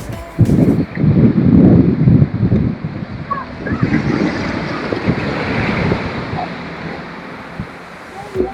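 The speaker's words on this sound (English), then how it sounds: "as you come through that arch, You have this beautiful beach." Waves on a rocky beach in Madeira, a heavy rushing surf with strong wind buffeting the microphone, loud at first and easing to a steady roar.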